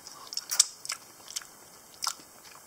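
Beef loc lac, a Cambodian stir-fried beef dish, being bitten and chewed close up, with a few soft crunchy bites and wet mouth sounds spread over a couple of seconds, no talking.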